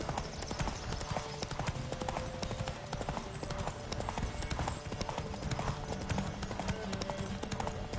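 Rapid, steady hoofbeats of a galloping horse in The Witcher 3 pound continuously under a dense wash of game music and effects.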